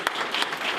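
Brief burst of audience applause at a city council candidate forum in Frisco, a quick patter of many hands clapping in a hall, lasting under a second.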